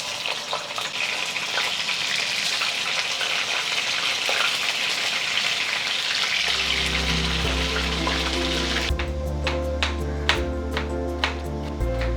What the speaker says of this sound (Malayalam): കുറച്ചും കൂടി ഉണ്ട്, അതും കൂടി നമുക്ക് വറക്കാം.